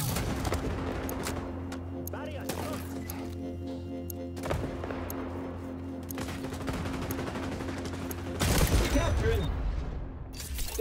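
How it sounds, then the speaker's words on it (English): Marksman rifle fire in the XDefiant shooter game, a steady run of gunshots over a busy battle mix, with voices talking throughout. "I really like this marksman rifle"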